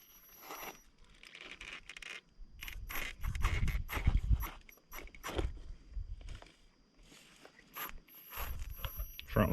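RC4WD Bully II crawler in front-wheel drive only, backing up and repositioning: intermittent close scrapes, crunches and whining motor bursts over rocky ground, stopping and starting unevenly.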